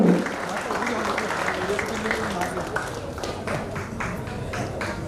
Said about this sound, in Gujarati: જોરદાર જોરદાર તાળીઓ